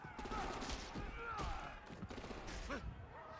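Gunfire in the Batman: The Enemy Within game, a run of sharp shots mixed with game music and effects, a burst near the end, with voices talking over parts of it.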